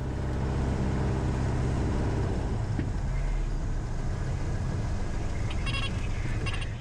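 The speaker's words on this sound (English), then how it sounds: "something's not quite right with the engine" The Cessna engine runs rough from a stuck valve on the number 4 cylinder, shaking and short of full power before an aborted takeoff, giving a loud, steady, droning cabin roar with no talk.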